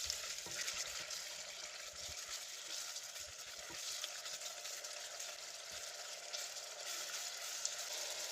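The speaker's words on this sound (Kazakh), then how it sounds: "Араластырып тұрып қуырамыз." Marinated meat fries in oil in a heated cauldron for lagman, a continuous soft sizzle with scattered scrapes and clinks of stirring, fairly quiet and steady throughout.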